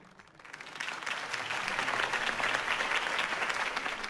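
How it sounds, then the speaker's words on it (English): Crowd applause in a video game, greeting politician Harvey Dent's campaign speech: dense clapping that swells after half a second and holds steady and loud to the end. "If only Mr. Wayne, my campaign's largest backer, could have heard that applause"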